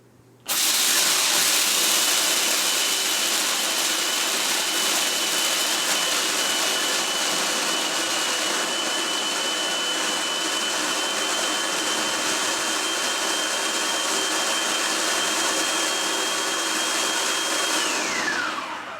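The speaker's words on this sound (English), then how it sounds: "And then I'm going to turn on the food processor." A food processor melting chocolate chips whirs steadily and loudly for a long stretch, a hissing motor drone that cuts off near the end.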